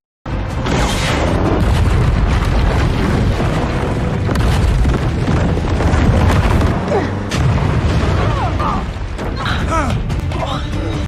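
A loud, sustained blast rumbles heavily, with crashing debris and booming low-end turbulence that continues for several seconds, with shouts faintly mixed in.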